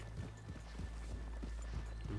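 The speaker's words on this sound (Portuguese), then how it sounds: "Deixa eu já escovar meu cavalo aqui." Horse grooming in Red Dead Redemption 2, heard as soft, rhythmic brushing strokes and muffled hoof shifts repeating about every half second over a low steady hum, fairly quiet and continuous.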